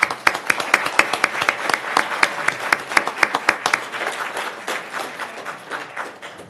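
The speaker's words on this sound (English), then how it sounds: "How about one more round of applause?" Audience applause at a county board of supervisors meeting, a dense run of hand claps that stays steady and then thins slightly toward the end, with no talking over it.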